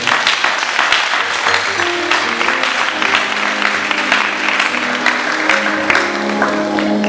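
A church congregation at a baptism service breaks into sustained applause and cheering, dense clapping filling the whole space with crowd voices and a few musical tones underneath.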